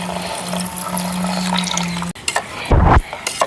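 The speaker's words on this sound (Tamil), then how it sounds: "இப்போ வந்து பால் ஊற்றிக்கலாம்." Milk pours into a pan for apple kulfi, a splashing liquid gush that swells loudly for about a second after steady kitchen background noise, close to the mic.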